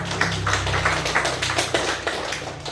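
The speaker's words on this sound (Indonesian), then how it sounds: "Oke, tepuk tangan buat Agus" Classroom group clapping for a student during an information session, a steady patter of many hands at close range with a low hum underneath.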